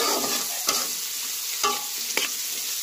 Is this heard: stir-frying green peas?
yes